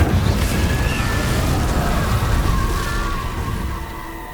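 A fire spell is cast in the Hogwarts Legacy video game. It lands as a loud, roaring whoosh-burst of flame that slowly dies away over a few seconds.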